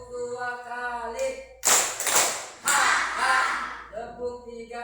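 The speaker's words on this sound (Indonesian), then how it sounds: "Tepuk 2 kali." A class of students claps twice in unison, two sharp bursts of group hand claps close together, with a teacher talking before and after.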